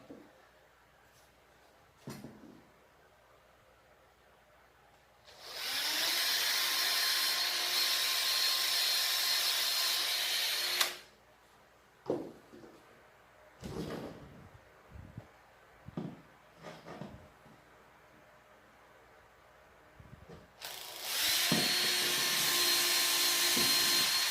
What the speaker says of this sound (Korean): 자, 지금부터 구멍을 뚫어서 선을 연결을 해 보겠습니다